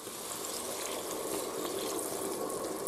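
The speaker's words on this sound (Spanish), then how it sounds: "ahora echamos el vino" Red wine is poured into a pressure cooker pot holding potatoes, vegetables and meat, a steady close liquid splashing and gurgling that runs evenly for a few seconds, with no talk.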